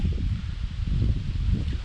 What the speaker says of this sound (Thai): ลมแรงนะทุกคน